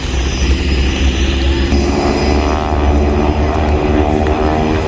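Award-winning aerobatic team airplanes flying at the 2021 Dayton airshow, a loud, continuous propeller engine drone close overhead, steady and alone.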